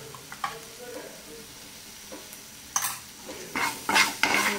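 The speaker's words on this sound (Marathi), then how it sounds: "ह्याच्यात ना असं फ्राय करून घ्यायचं थोड्या तेलात" Spices fry in a little oil in a pan while a spoon stirs, with soft sizzling underneath and scattered scrapes that grow louder and more frequent toward the end.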